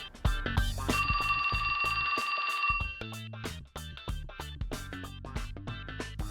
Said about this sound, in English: That's my phone.